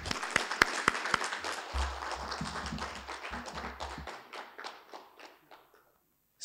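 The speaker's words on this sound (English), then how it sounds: "Let's give her a big round of applause." A short burst of applause at a prize-giving starts with a few sharp, loud claps, swells into a dense patter with low thumps, then thins out and fades.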